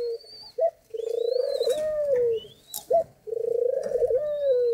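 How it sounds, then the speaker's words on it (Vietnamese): White French pigeons cooing while a mother feeds her chicks, long rolling coos repeated close up and fairly loud, with no voices over them. "Đây là đôi bồ câu Pháp mẹ trắng tinh."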